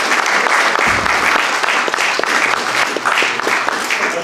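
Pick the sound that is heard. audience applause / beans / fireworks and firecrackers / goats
audience applause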